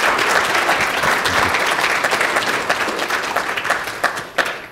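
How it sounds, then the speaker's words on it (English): A lecture audience gives a sustained round of applause, many hands clapping densely together. The applause gradually thins out toward the end, leaving a few scattered claps. "Could you join me in a round of applause for Jay, too?"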